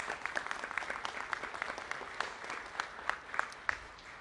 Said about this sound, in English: Please give her a round of applause and thank her for the extraordinary work she has done.